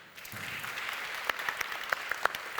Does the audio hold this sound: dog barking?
no